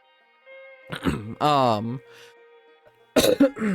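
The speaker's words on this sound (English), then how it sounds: "I'm just clearing my throat." A person clears their throat a couple of times, a short rough rasp followed by a voiced grunt, with another burst near the end, close and fairly loud.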